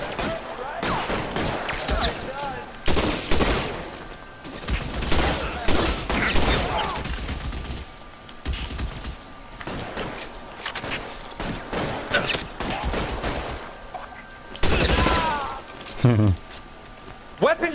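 Repeated gunfire bursts in the L.A. Noire video game, loud, irregular volleys of shots and impacts spread across the scene, mixed with game chatter and someone talking over the action.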